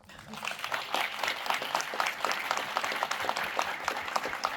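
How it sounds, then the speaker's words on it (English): A round of applause from a convention audience at a comic con Q&A panel in Montréal, many hands clapping in a lively, uneven patter, moderately distant and fairly soft. "We should give her a round of applause."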